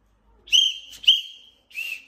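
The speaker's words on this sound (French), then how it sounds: "Je siffle." A referee's whistle gives two sharp shrill blasts in quick succession and then a shorter third one, close and clear with no talk.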